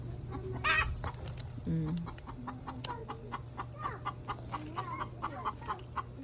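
A hen cackles in a farmyard after laying an egg, giving a run of sharp, repeated clucks that rise and fall close by, with a steady low hum underneath and faint voices now and then.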